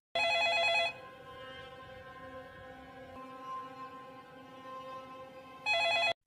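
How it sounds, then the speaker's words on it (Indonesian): A telephone rings in two loud electronic bursts at the start and end, with a quieter tonal hum lingering between them. "Kembali telepon itu berdering"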